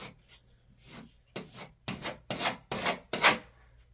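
Textured plaster is scraped off closet walls in a run of about seven rough, rasping strokes, coming quicker and louder toward the end, heard up close with no talking.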